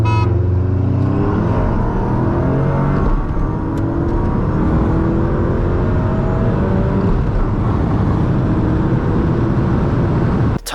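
Volkswagen GTI fitted with an IS38 turbo upgrade pulling hard under acceleration, a loud continuous engine drone with rising harmonics as revs climb, heard from inside the car with no talking.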